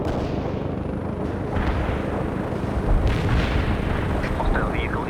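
Artillery barrage in the video game World in Conflict, a dense continuous roar of rumbling explosions with bursts overlapping one another, loud and sustained, with brief voice chatter over it.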